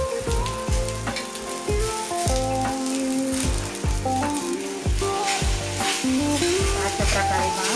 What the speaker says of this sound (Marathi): त्यात आपण 1 चमचा तेल घालणार आहोत आणि भेंडी चांगली भाजून घ्यायची।